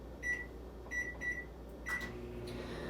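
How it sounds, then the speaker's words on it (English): A microwave oven hums steadily while broccoli cooks inside, with a few short electronic beeps near the start, all fairly quiet and close. "So this is gonna go into the microwave."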